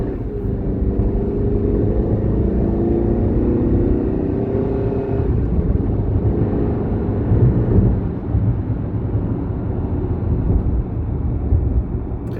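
A stock pickup truck in sport mode, without an aftermarket air intake, accelerates from a standstill to 50, its engine a deep, loud rumbling drone that climbs and shifts around the middle of the run.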